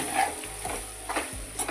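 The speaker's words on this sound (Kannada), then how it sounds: "ಈ ಒಗ್ಗರಣೆಗೆ ಈಗ ಮಿಕ್ಸ್ ಮಾಡಿರೋಂಥ ಉಪ್ಪಿನಕಾಯಿನ ಹಾಕ್ಕೊತಾ ಇದ್ದೀನಿ" Mango pickle pieces are stirred into hot tempering in a pan with the stove switched off, giving a few scraping strokes over a soft, steady sizzle, close by and with no talking.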